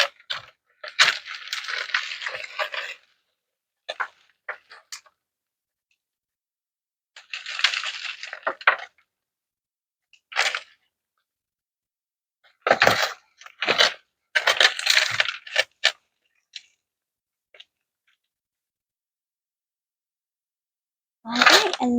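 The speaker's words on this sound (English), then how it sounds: "So I am actually going to remove some of this dirt." Potting soil being scraped and crumbled out of a plant pot while repotting a Scindapsus Exotica, in irregular gritty bursts of rustling and crunching separated by silences, close and fairly loud.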